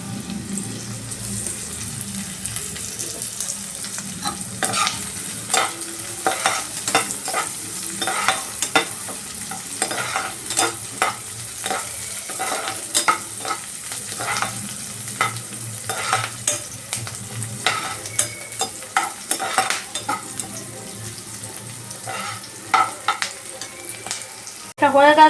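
Capsicum fries in a pan while being stirred, giving a steady close sizzle broken by repeated scraping and clacking stirring strokes throughout, with no talk.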